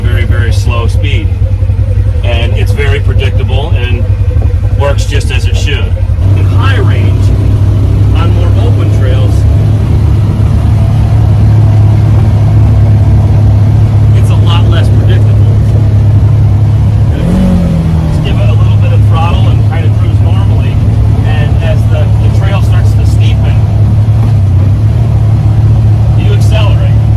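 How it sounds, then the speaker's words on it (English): A 50-inch Polaris RZR Trail side-by-side engine braking down a hill holds a loud, steady low engine drone for the whole stretch, with occasional shifts in pitch and a voice talking over it. "the engine brake will carry me down this at a very, very slow speed"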